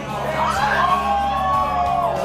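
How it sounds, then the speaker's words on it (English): A dense indoor crowd at an independent wrestling show cheers and whoops loudly, with overlapping yells and shouts holding constant throughout. "This crowd is intense."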